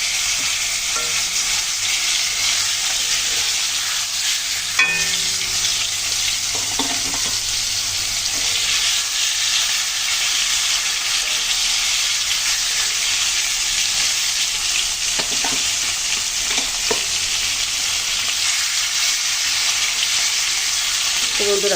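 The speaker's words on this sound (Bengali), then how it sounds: "হলুদ দিয়ে মাছগুলো এখন দিয়ে দিচ্ছি।" Tilapia fish fry in hot oil with turmeric, a loud, continuous sizzle with crackling spatter close by and occasional faint clinks, no speech over it.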